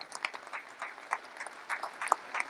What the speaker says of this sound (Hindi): सो इनके लिए भी बहुत सारी तालियां।